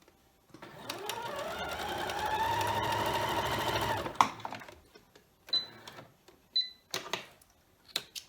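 Sewing machine stitching quilt block pieces for a scrappy honeybee block, running steadily for about four seconds, then stopping and giving way to scattered clicks and handling noises.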